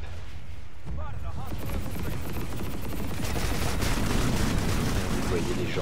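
Dense, continuous gunfire striking an attacker's shield in PlanetSide 2, a loud sustained barrage of rapid shots and impacts that builds steadily, with someone talking over it.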